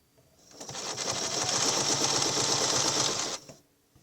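A sewing machine stitches a curved Baptist Fan quilting pattern, running steadily for about three seconds with a fast, even mechanical whir and rattle that starts and stops cleanly, close up and with no talking.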